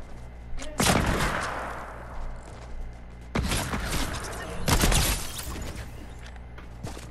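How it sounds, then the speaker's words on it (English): Hunting rifle shots in Fortnite ring out as three loud, separate blasts, each trailing off in a long echoing tail, with no voices over them. "Let me use a hunting rifle real quick."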